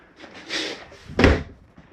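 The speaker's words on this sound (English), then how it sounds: "make sure all doors and drawers are closed" Inside a 2022 Keystone Bullet 331BHS travel trailer, a cabinet door or drawer slides shut softly, then another closes with a firm, close wooden thud.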